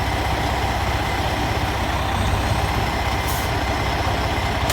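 A truck with a trailer in first gear tugs against the trailer brake during a pre-trip check, giving a loud, steady low engine rumble with a brief hiss near the end and no talking.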